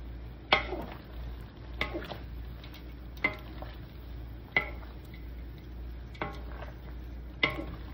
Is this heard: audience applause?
no